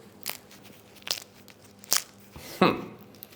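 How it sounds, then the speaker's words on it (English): Four sharp, dry crunches spaced about a second apart, the last one louder and longer like a bite through a hard sourdough bread crust, with no talking. "Golden crust, beautiful crumb. Oh, crunchy. Hear this."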